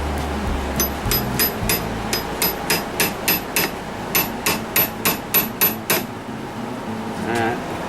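A hammer strikes a metal punch in a steady run of about sixteen sharp, ringing blows, close and loud, after a brief low rumble at the start.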